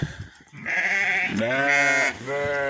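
Young lambs bleat repeatedly at close range, several drawn-out, wavering cries following one another with brief pauses between them and no talk over them.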